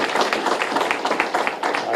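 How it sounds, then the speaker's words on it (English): An audience at a shopping festival event in Nairobi claps steadily, a dense burst of applause filling the space without pause for a couple of seconds. "Give them a clap."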